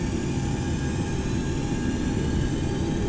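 Boeing 727-100 jet engines in a flight simulator spool up to a loud, steady whine and roar with a constant tonal hum, filling the cockpit with no talk.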